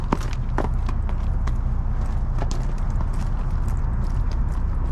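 A young colt's hooves stepping on the ground, a scatter of close, irregular clip-clop thuds over a low steady background.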